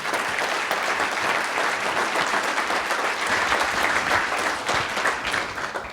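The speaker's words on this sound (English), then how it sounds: "So give Mark a big round of applause." Loud, full applause from a lunch-and-learn audience fills the room without a break, steady clapping throughout with a faint voice briefly underneath.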